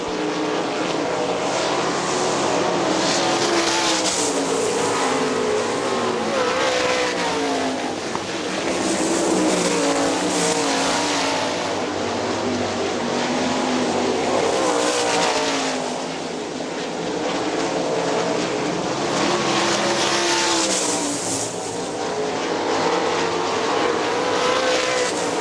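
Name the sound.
sprint race cars racing at Hartford Speedway Park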